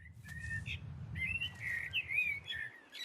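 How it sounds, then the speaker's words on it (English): Small birds chirping and whistling in a game sound effects demo, bright repeated calls over a low steady ambient rumble, near and fairly clear throughout. "the birds have returned to normal"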